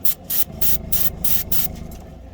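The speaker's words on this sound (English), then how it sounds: "give you guys an idea of airbrushing if you've never done it" Airbrush spraying paint onto a scale model V6 engine from an AMT Opel GT kit, a series of about six short, close hissing bursts with brief pauses between.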